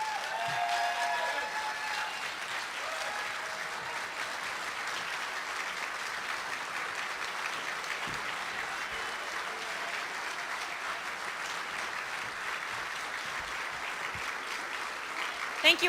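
Audience at a Lincoln Day political dinner in Spokane County breaks into sustained applause welcoming a speaker, a dense steady roar of clapping filling the room throughout.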